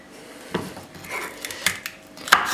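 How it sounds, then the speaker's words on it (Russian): An onion is being chopped with a knife on a board in a home kitchen, finely, giving a few sparse, close, sharp blade taps against the board, spaced irregularly, with soft clinks and rustle between them. "я нарежу луковичку."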